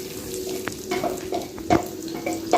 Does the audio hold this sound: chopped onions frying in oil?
yes